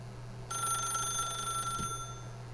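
A telephone rings once in The Stanley Parable video game, a bright electronic trill that starts abruptly and holds for over a second, then stops over a low steady hum.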